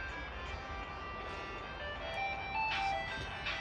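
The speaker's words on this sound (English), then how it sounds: "That sounds like an ice cream truck." A tinkly ice cream truck jingle plays loudly from nearby woods at an orchard over a low background rumble, its melody repeating and swelling slightly toward the end.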